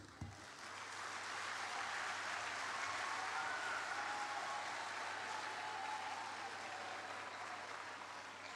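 A school Model United Nations audience applauds steadily, a broad dense wash of clapping that starts abruptly and holds at an even level for several seconds without voices.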